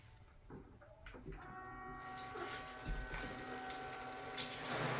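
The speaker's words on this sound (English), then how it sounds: "Just put the pump into the bucket and turn it on." A battery-powered portable shower pump switches on, submerged in a 5-gallon bucket of water during a power-out Texas freeze, giving a steady electric motor whine over splashing, gurgling water that builds after a couple of quiet seconds.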